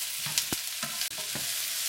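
Beef and cabbage sizzle in a hot pan, with a constant frying hiss broken by several sharp scrapes and clatters as the spatula stirs, close and fairly loud with no talking.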